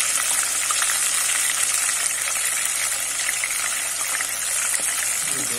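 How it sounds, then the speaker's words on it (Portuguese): Food fries in hot oil at close range, a continuous bright sizzle and crackle that holds steady throughout. "Como o óleo tá meio quente, gente, o tanque tá fritando"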